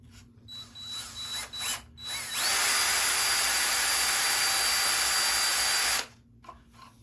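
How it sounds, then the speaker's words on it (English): A power drill bores screw holes in the fuselage of a Carl Goldberg Tiger 2 model airplane, giving a few short trigger bursts and then one loud, steady whine of about four seconds up close. "Now I gotta drill the holes here and here to get that other screw in"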